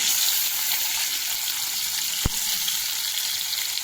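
Steady broadband sizzle of fish frying in hot oil in a pan, continuous and close, with one brief low thump partway through.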